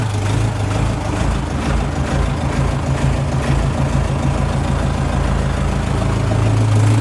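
A Lovol 354 tractor engine idles in cold weather at minus five degrees, a loud, steady low diesel rumble throughout with no pauses.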